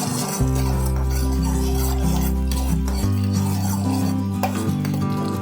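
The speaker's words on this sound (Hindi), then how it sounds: "अब इसमें हम 1 कप टमाटो प्यूरी डालेंगे। इसको मिक्स कर लेंगे।" A cup of tomato puree being stirred into a pan after carom seeds crackle, with repeated scraping and rubbing of a spoon against the pan over a soft sizzle and a low steady hum.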